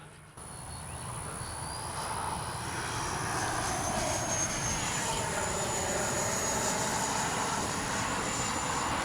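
A radio-controlled L-39 model jet passes slowly with landing flaps down, its steady turbine roar swelling and holding loud and close with a high whine, alone without talk.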